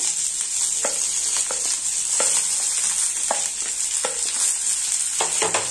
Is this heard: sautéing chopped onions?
yes